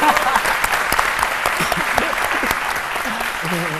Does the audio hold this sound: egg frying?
no